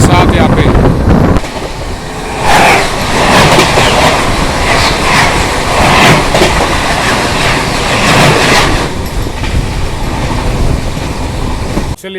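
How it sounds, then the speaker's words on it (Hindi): Aboard train 12276, the Prayagraj Humsafar Express, another train, the Bhubaneswar-New Delhi Tejas Rajdhani Express, rushes past in a loud, continuous roar with rhythmic clickety-clack of wheels, ending abruptly as it clears; faint voices mingle underneath. "अभी अपनी क्रॉसिंग होने वाली है भुवनेश्वर नई दिल्ली तेजस राजधानी एक्सप्रेस के साथ यहाँ पे"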